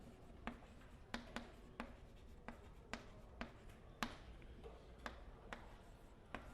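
Chalk or pen taps and scratches on a board during a calculus lecture on Riemann sums, sounding as sharp, irregular clicks roughly every half second, faint against a quiet room.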